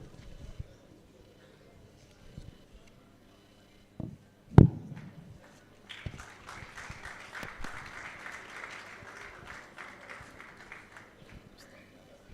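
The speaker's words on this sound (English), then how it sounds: "Let's keep clapping as she comes up to declare Zuma Film Festival open." Audience clapping at a film festival opening ceremony as a guest walks up to the stage, starting faint and scattered, then swelling into steady moderate applause in a room alongside light footsteps and a sharp knock.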